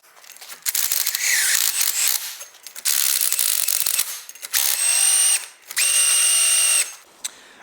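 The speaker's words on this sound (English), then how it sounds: "With an adapter, pop it on the end, and that rotates." A power drill spins a hub-cleaning adapter over the studs of a Ford Fiesta front wheel hub, grinding off surface corrosion in several loud, close bursts with short pauses between.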